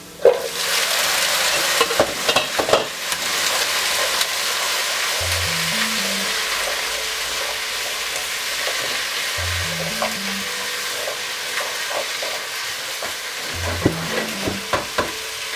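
Potato still holding moisture fries loudly in a Japanese vegetable curry pan, a steady close sizzle with stirring clatter and scraping, plus a few low tonal blips.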